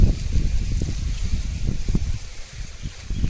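Wind blows through leaves outdoors at a farm field, making a steady, close rustling hiss that rises and falls slightly, with no talking.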